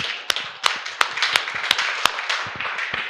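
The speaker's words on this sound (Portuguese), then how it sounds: "Palmas ao Senhor" Church congregation claps in praise, a few sharp distinct claps at a loose, irregular rhythm over a softer background patter, close and fairly loud.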